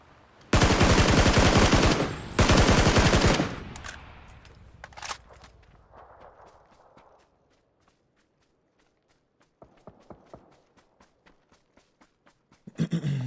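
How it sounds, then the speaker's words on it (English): Two long bursts of rapid automatic gunfire in PUBG, loud and close, followed by scattered distant shots and footsteps, then a final short burst of fire. "Gunshots back at these houses."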